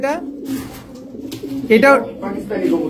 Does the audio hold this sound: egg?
no